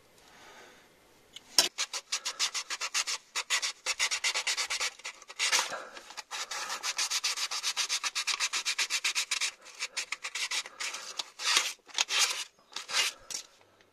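Paint is scrubbed off a gauge port, where water temperature, oil pressure and transmission temperature gauges fit. Rapid, rhythmic, close rubbing strokes come in uneven bursts with short pauses, and no voices are heard.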